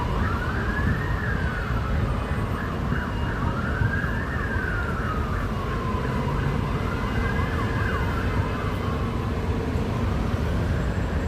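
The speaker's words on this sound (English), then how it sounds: "you're gonna almost be constantly hearing the sirens and that going off" An emergency vehicle's wailing siren sweeps up and down continuously in central London, fairly distant, over steady city traffic rumble with no talk.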